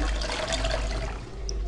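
Toilet flush in the Toca Boca video game: a short, steady watery rush with trickling, heard alone for under two seconds.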